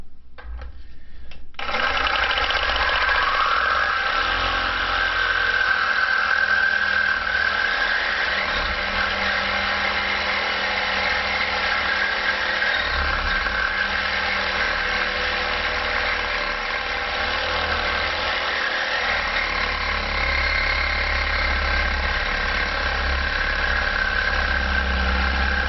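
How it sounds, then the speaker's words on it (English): A Sawzall reciprocating saw cuts through a chain link clamped in a vise, with a loud, steady buzzing rasp that runs continuously for over twenty seconds after a short start. "I've got mine in a vise just tight enough to hold the chain so that the Sawzall doesn't pull it back out."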